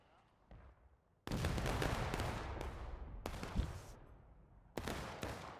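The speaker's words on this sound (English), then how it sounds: "that arty fire is making these forward positions very difficult" Booming artillery and musket fire on the Dunker Church battlefield in War of Rights, a Civil War game: a sudden loud blast opens a sustained rumbling barrage, more sharp reports follow, a second big burst arrives near the end, and faint voices sit underneath.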